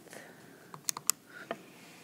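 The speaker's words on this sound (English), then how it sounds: "when you type it into your calculator" A few calculator keys pressed in a short irregular burst, about four or five crisp plastic clicks close by in a quiet room, with no talking.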